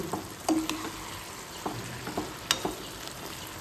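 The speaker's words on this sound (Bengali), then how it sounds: "চালটা ভেজে নিচ্ছি" Rice frying in a pan for a Ganesh puja meal, a steady close sizzle broken by scraping stirs and occasional utensil clinks.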